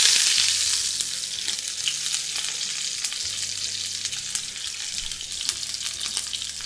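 Venison searing undisturbed in a hot pan, a loud, steady close sizzle with fine crackling and spitting that eases slightly after the first second, no speech.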